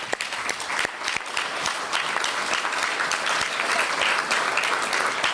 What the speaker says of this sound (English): just a round of applause to interns generally